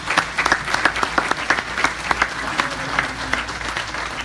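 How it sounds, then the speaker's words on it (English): Gala audience at a charity soirée giving a loud, continuous round of applause, many hands clapping together in a crowded room. "Let's give them a round of applause."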